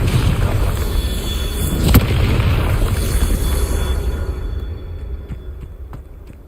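A Confringo spell explosion in the game Hogwarts Legacy, a loud low booming blast with a sharp crack near the two-second mark and a rumbling tail that slowly fades out.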